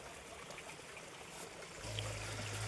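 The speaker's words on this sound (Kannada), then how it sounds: "ಯಾವಾಗಲೂ ಇದೇ ಥರ ನೀರು ಹರಿಯುತ್ತೆ" A gravity-fed stream on a coffee estate near Jayapura, Chikkamagaluru, trickles and flows continuously at low volume, with a low rumble joining near the end.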